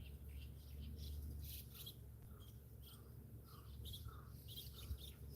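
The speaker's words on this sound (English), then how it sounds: "Oh, all the birds are going again." Birds chirp softly through the background near a carp fishing spot, scattered short tweets repeating over a steady low outdoor hum, faint and fairly distant, with no one speaking.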